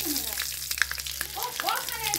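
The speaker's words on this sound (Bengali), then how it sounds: "তেজপাতা, শুকনো লঙ্কা, কাঁচা লঙ্কা আর জিরে দিয়ে দিলাম তেলে।" Bay leaf, dried and green chili and cumin fry in hot oil, giving a close, steady sizzle with a faint voice and a few light clinks underneath.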